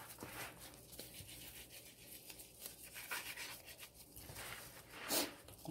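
Hands rubbing seasoning into raw oxtails: a steady, soft, wet scrubbing and rasping with repeated strokes, close and fairly faint, with no talking.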